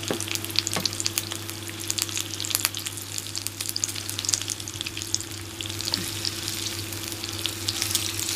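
Pork belly and other meat sizzle and fry on a Thai moo kata grill pan, a continuous close hiss scattered with sharp pops and crackles, with no voices over it.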